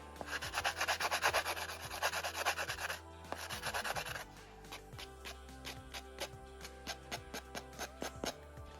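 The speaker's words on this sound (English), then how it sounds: "I'm going to go in with a 180 grit sanding block, which is very fine, and just give it a light sand" A 180 grit sanding block lightly sands a UV resin pen, first as dense, quick close-up rubbing strokes, then slowing into separate short scrapes with small ticks between them.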